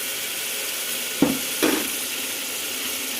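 Softened tomatoes frying in a pan for tomato rice, with a steady sizzle and two short scraping stirs close by, no talking.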